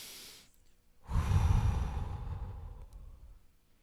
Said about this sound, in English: take a deep,